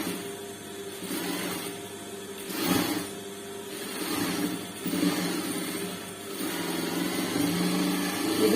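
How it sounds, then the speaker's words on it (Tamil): A sewing machine stitching fabric for a sleeve runs in a steady mechanical whir that rises and falls in several bursts, close up and moderately loud, with no talking. "இந்த துணியை இப்படி மேல் நோக்கி போட்டு முதல்ல ஒரு அமுத்து தையல் போட்டுக்கணும்"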